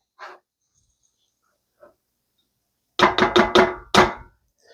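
A spatula stirs Mason Dots nougat in a pot, giving a quick run of about five thick, sticky knocking scrapes, close and fairly loud, after a near-silent stretch with a couple of faint soft sounds, no talking.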